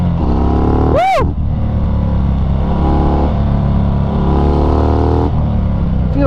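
A 2019 Harley-Davidson FXDR 114 motorcycle accelerating hard, its engine a loud, close, continuous roar that climbs in pitch through the gears, with one sharp rising whine-like sweep early on.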